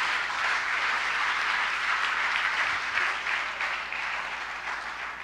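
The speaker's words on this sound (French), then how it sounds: "Acclamons pour eux, merci beaucoup." A church congregation claps for people who have been prayed over during a service, a steady, fairly soft wash of applause from many hands that holds evenly throughout and tapers slightly near the end.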